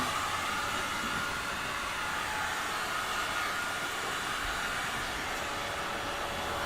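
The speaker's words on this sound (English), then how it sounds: "What is it? Blow dryer." A handheld blow dryer used while prepping a painting canvas blows air in a steady, unbroken whoosh, fairly quiet and constant throughout with no voices.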